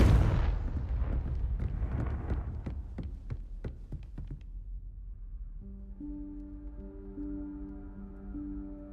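Confringo fire spell blasting in Hogwarts Legacy: a rapid string of loud booming explosions with sharp cracks, fading into a low rumble and then a sustained tonal hum, no talk.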